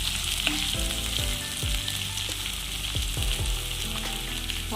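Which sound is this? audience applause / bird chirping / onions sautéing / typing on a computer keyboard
onions sautéing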